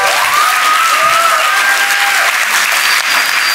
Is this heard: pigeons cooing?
no